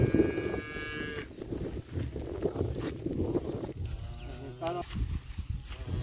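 A cow on a rural Karnataka homestead moos loudly in heavy rain, one long call at the start and another drawn-out moo later, with people talking and background clatter throughout.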